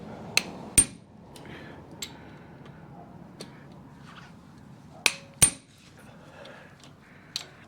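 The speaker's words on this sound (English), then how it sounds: "I'm going to go around this thing with the impact driver, give them a little tap tap, tighten." Impact driver giving quick taps to bolts on a 1973 ATMX clutch, a few sharp metallic knocks spaced apart, some in close pairs, standing out loudly against a quiet workshop.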